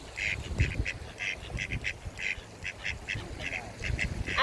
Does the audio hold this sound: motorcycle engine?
no